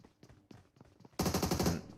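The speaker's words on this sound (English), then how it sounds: "He hears the gunshots" Gunfire in a PUBG Mobile match: a few scattered distant single shots, then a dense, loud burst of rapid automatic fire lasting under a second.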